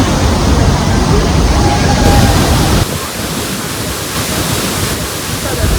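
Fast-flowing water rushes and splashes loudly and continuously over people getting drenched in Gangtok, Sikkim, a dense close roar that drops a little in level partway through.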